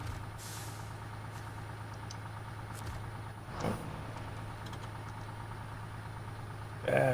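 A truck engine idles in the off-road driving game SnowRunner, a steady low hum throughout with a brief hiss and a louder burst near the end, and a voice talks over it at times.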